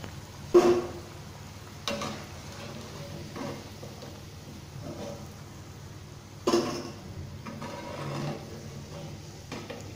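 Onion pakodas fry in hot oil with a soft, steady sizzle, broken by a few louder bursts as pieces are moved or lifted out. No one speaks.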